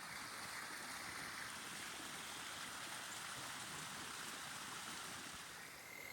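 Steady rushing water from a waterfall and flowing creek along a kayaking route, a constant broadband roar heard continuously with no talk.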